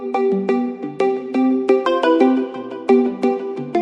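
A phone ringtone plays loud and close, a bright synthetic melody of repeated plucked notes in a steady bouncing rhythm with no voices over it.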